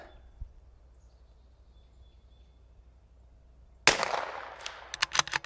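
A single sharp crack from a precision .22LR bolt-action rimfire rifle breaks a quiet range, followed by a brief ringing decay and a few small clicks.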